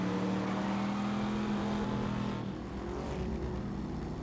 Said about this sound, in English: I'm gonna outbrake you on the next turn, Bob!